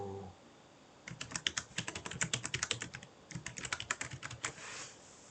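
Quick bursts of computer keyboard typing as Ctrl+W and Ctrl+X shortcuts are pressed, close and crisp, with dense rapid keystrokes in two clusters and a brief pause between, no voices.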